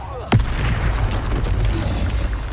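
Confringo explosive spell in the Hogwarts Legacy wizarding game: one sharp, close blast near the start, then a rumbling roar of debris and fire that holds at steady loudness to the end.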